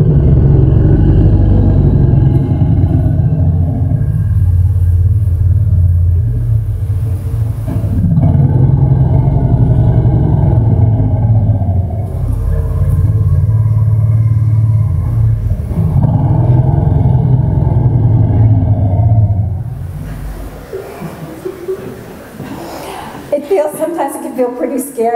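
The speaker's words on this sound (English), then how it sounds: "ones I'm going to play now that are used to recruit family members who are under, distant family members when a group of elephants is under threat, in this case by a lion" Recorded elephant calls played back over speakers in a hall, the kind used to recruit distant family members when a group is threatened by a lion: loud, sustained low rumbles and roars that end in a burst of higher, noisy trumpeting.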